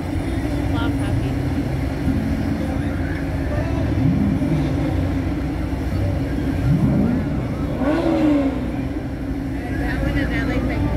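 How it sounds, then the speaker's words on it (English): Corvettes rolling past in a beachside parade, engines rumbling with a few rising revs, heard amid crowd chatter and nearby voices talking. "They'll rev the engine if everybody's got big, big smiles."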